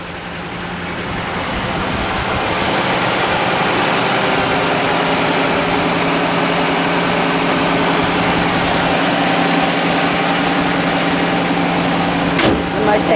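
A black 1967 Mercury Cougar GT hardtop with a 390 engine and four-speed idles steadily, a continuous low rumble with a broad roar over it, close and even throughout, with a brief sharp noise near the end.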